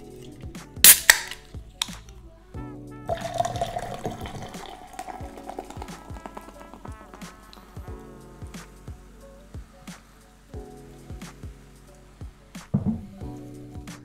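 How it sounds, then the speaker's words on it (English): Yamazaki 18 Japanese whisky poured from the bottle into a glass, with a sharp clink of glass near the start, then a gurgling pour and scattered light clinks and taps, close and fairly quiet. "So let me just pour this into a much better glass."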